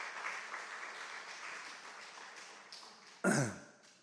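A church congregation claps together at a weekday worship service, a soft steady patter of many hands from a moderate distance, with a brief louder cough or throat sound near the end.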